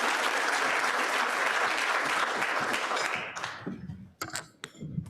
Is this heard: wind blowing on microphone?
no